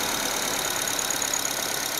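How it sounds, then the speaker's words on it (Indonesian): Used car engine running steadily under a throttle test, a constant mid-pitched hum with a faint knocking texture, close and fairly loud, with no talk. "Kita akan coba gas ya."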